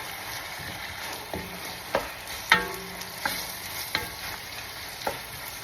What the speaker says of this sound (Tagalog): lulutuin muna natin ng konti ang onion